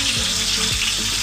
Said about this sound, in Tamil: இப்போ எண்ணெய் நல்லா காஞ்சிட்டு இருக்க நேரம் பார்த்து ஒரு 4 பச்சை மிளகாய் எடுத்துக்கிறேன்